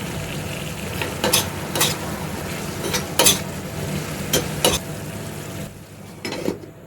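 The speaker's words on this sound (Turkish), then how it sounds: "Şöyle bir karıştıralım" Menemen sizzles steadily in a pan while being stirred, with a series of sharp scraping clacks of a utensil against the pan scattered across the steady frying hiss, no voices.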